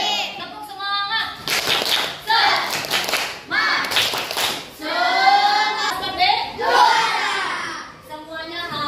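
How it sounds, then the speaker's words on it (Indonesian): Classroom of pupils performing a rhythmic spirit clap routine in unison, loud sharp clap bursts in patterned groups interspersed with children chanting along. "Tepuk semangat."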